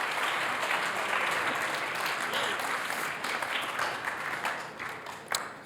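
A congress audience of scouting educators applauds in a large hall, dense overlapping claps holding steady at close range and thinning slightly toward the end, with a single sharper clap near the finish.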